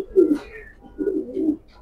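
A pair of black pigeons being released, giving two soft, low coos close by in a quiet setting.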